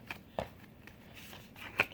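Large tarot cards are shuffled by hand in a quiet room, giving faint papery riffles and soft slaps, with a few sharper snaps spaced irregularly across the moment.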